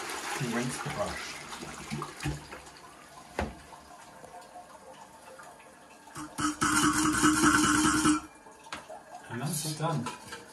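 Water splashes and rushes while a toilet brush is rinsed in a toilet bowl during cleaning, a loud burst of running water in the middle with clattering sounds around it and speech.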